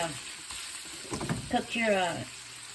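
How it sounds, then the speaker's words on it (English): Sausage frying in a pan, giving a soft steady sizzle close by as someone speaks over it briefly. "you fry up the sausage or whatever kind of meat you want"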